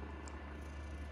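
A cat purrs while being petted, a low continuous rumbling hum, close and soft, steady across a brief moment.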